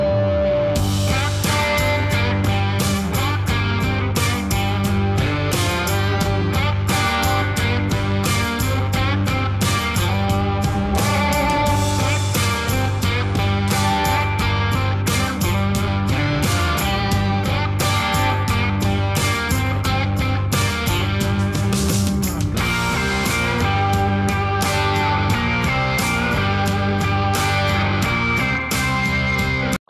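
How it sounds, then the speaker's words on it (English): Continuous lively music with accordion melody over a steady rhythmic beat, playing loudly and without pause throughout. "if you hear a little bit of accordion in the background"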